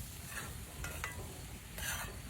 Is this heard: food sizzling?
yes